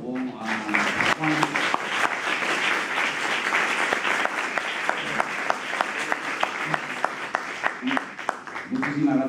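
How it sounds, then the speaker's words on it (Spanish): Audience applause after a talk at a conference, a long steady round of clapping with distinct sharp nearby claps ticking through it and brief voices near the start and end. "vamos a dar un aplauso"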